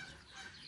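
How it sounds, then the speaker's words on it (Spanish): Chickens and small chicks clucking and cheeping together in a farm coop kept warm under a heat lamp, a soft steady chatter of fowl sounds close by without any talk. "Vamos a ver los pollitos."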